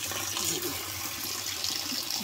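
Steady rushing water from a water pump on a farm water system, pouring continuously as the line is flushed of sand and stones; a constant, fairly close flow with no voices.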